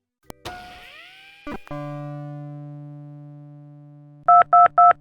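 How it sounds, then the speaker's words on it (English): A futuristic video phone in the Tex Murphy: The Pandora Directive video game powers up with a click and a sustained electronic tone, then gives three short, loud synthetic beeps in quick succession. "My new vid phone is essential."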